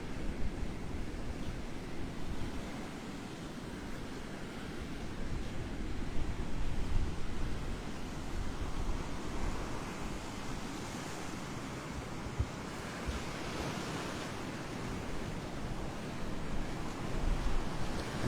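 Steady roar of surf and gusting wind on a Gulf beach at Delnor-Wiggins in the morning, continuous broadband wash with wind buffeting the microphone throughout, no voices.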